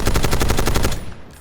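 Rapid automatic gunfire from the video game Warzone rattles off in a fast, steady burst for about a second before cutting out, loud and close with no talking.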